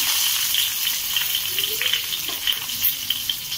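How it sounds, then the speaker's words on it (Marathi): Cumin seeds and curry leaves sizzle in hot oil over a medium flame, a close, continuous hissing fry with faint crackles throughout. "थोडं जिरं आपण असं परतून घेऊया"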